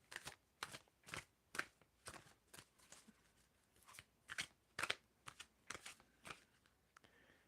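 Tarot cards are shuffled in a quiet room, a series of soft, crisp riffles and flutters repeating in an irregular rhythm close to the listener.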